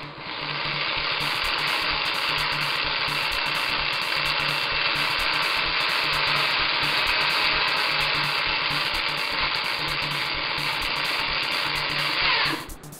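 A drill boring a 1/4 inch hole through a plastic Game Boy Pocket shell, a steady close whine that holds almost unbroken for about twelve seconds before cutting off.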